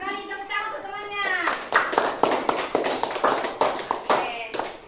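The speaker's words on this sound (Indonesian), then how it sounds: "Tepuk tangan untuk temannya." Schoolchildren in a classroom clap for a classmate after an answer, a burst of sharp, uneven hand claps rising out of chatter and continuing steadily near and loud, with children's voices mixed in.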